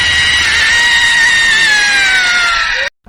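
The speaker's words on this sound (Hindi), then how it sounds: "जो इस फिल्म में भूतनी की चीख थी" A piercing, sustained female ghost scream from the horror film Raaz rings out loud and alone for nearly three seconds, its shrill pitch sliding slowly downward before it cuts off sharply into silence.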